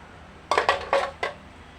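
While ube halaya is stirred with coconut milk in a pot, a metal spoon knocks against the pot in four quick, close clinks over a quiet background.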